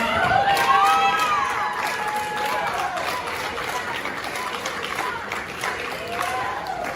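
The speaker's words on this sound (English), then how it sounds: "Please cheer them and cheer for them." A crowd roars steadily with shouts, whistles and scattered clapping at a DCW wrestling Hall of Fame induction, dense and loud throughout the whole stretch.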